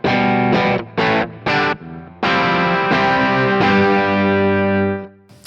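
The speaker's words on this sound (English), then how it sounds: "this is what it would sound like as a true standalone overdrive" Electric guitar driven through a RYRA Klone overdrive pedal used as a standalone drive: a few short chopped chords followed by long sustained, saturated chords that ring out and fade, loud and close with no talking.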